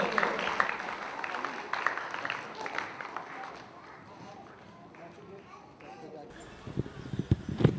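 A crowd at a Pakistani Kyokushindo karate belt ceremony claps together in steady, fairly close applause. A voice talks over the opening moments and again at the very end.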